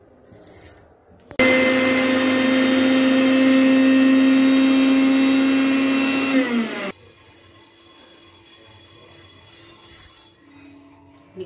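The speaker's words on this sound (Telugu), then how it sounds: "మిక్సీ ఇట్లా ఫైన్ పౌడర్ చేసుకోవాలి మిక్సీలో." A mixer grinder whirs loudly and steadily for about five seconds as it grinds flax seeds with garlic and salt into a fine powder, then cuts off abruptly, leaving quiet handling noises.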